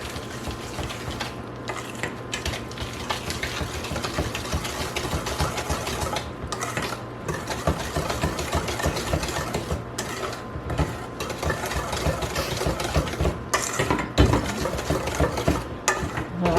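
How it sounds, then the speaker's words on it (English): A whisk works briskly through a brown sugar pumpkin pie mixture in a bowl, giving a continuous rapid scraping and clicking rhythm at close range with no talking. "so now we just want to whisk this all together"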